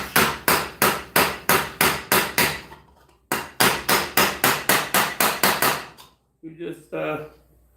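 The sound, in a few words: hammering metal with a ball peen hammer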